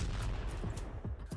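Drone strike explosion in war footage of a Russian soldier hit by a Ukrainian drone, heard as a loud burst of repeated booming blasts and crackling reports in quick succession.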